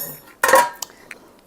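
A prepared baking pan for cinnamon bread is handled in a kitchen: one loud metallic clatter of the pan being set down, then a few lighter knocks and clinks close by, with no talking.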